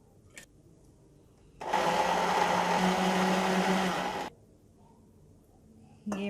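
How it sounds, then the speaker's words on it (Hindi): A blender grinds mint, coriander and green chillies in a loud, steady motor whir lasting a few seconds, preceded by a quiet stretch with small clicks, and a second short burst begins at the end. "ये मैं तीनों चीज़ें मैं इसको पीस लूँगी"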